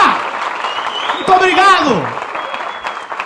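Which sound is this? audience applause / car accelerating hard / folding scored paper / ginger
audience applause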